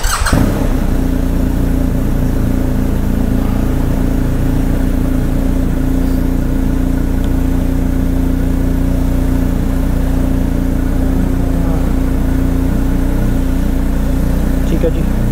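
A BMW R 1250 GS motorcycle engine runs loudly up close with a steady throbbing hum, while someone talks over it.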